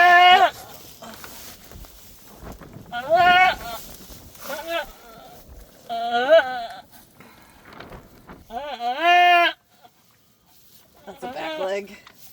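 Goats on a farm bleat during the birth of baby goats, with several loud, wavering cries spaced a few seconds apart and close by, and quieter rustling between them.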